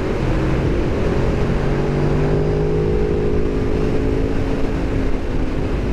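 A small 390 sport motorcycle engine hums loud and close while riding, with a steady drone and slowly shifting pitch as speed builds, and wind roar mixed in underneath.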